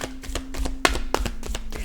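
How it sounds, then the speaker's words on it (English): Tarot cards being shuffled: a quick series of soft papery riffles and taps, close by, with a low steady hum underneath. "Let's give it a little shuffle."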